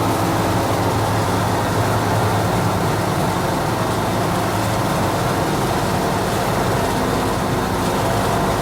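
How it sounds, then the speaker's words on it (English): A 1952 Chevy five-window pickup truck driving along the road at speed, with steady loud engine drone and road and wind rumble filling the whole stretch. "So it just gives you an idea how well this thing runs and drives."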